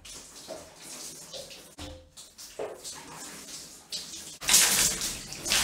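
Water poured over bathroom glass to rinse it during cleaning, a steady splashing wash that swells louder toward the end, close by and with no talk over it.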